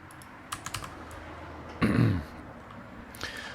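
A few quick taps on a computer keyboard, typing a short command while drafting a design model, followed by a throat clearing and a brief click, all quiet and close.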